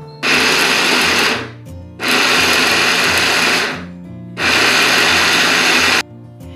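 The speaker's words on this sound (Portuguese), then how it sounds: "Nessa receita, nós vamos usar a função pulsar do liquidificador." A blender whirs in three loud pulses of about two seconds each, separated by brief pauses, grinding rice, hard and gritty, up close.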